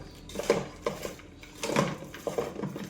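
Bhel puri being mixed by hand in a bowl, close, irregular scraping and light clattering strokes in short bursts, with no talk.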